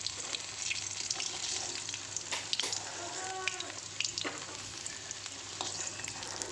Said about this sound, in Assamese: আলুখিনি অকণমান ফ্ৰাই হ'বলৈ দিম।